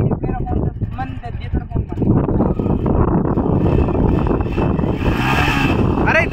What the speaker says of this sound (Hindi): अरे ऐसे रेस मत दे भाई